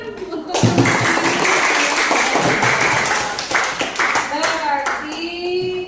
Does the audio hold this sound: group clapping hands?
yes